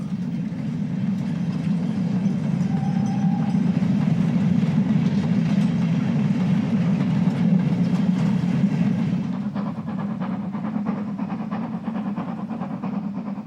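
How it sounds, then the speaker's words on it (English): A steady, heavy three-cylinder steam freight locomotive rumble climbing a gradient, with a low pulsing beat, rolling on continuously and loud throughout, joined briefly by a faint high whistle-like tone. "That distinctive 3-cylinder beat is the sound of another heavy freight engine."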